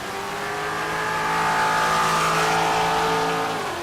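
A New Edge Ford Mustang drag car accelerating hard down the strip, its engine note climbing steadily and loudly, then dropping off near the end.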